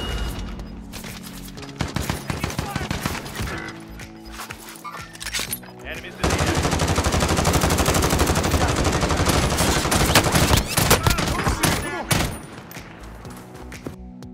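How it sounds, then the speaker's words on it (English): Burst-fire rifle shots in the Zombie Royale video game, loud rapid volleys of gunfire repeating in dense runs, with a stretch of continuous shooting in the middle and talk running over it throughout. "I stupidly died because I don't realise that is a burst fire rifle"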